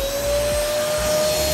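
A vacuum pump runs continuously while vacuum packing a Suzuki Hayabusa motorcycle, giving a loud, steady motor whine with a constant tone and no pauses.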